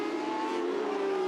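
Race cars, the Toro car among them, accelerate around a circuit with a loud, sustained engine whine that climbs slightly in pitch, close and continuous without talk.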